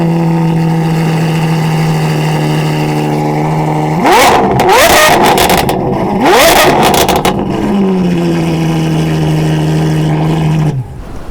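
Novitec Ferrari 812 GTS with a sports exhaust system, idling steadily before two sharp rising revs to a howling peak around the middle, then settling back to a lower idle and cutting off at the end.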